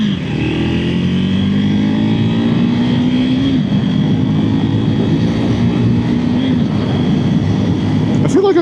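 A motorcycle engine revs loudly and close up as a learner rider works the throttle and clutch, a continuous droning engine note that rises and dips in pitch with no spoken words.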